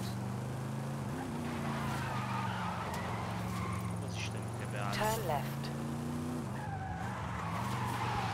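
Tyres skid and squeal on a car in a racing video game, a sustained engine drone with a sharp screech near the middle, while people talk over it throughout.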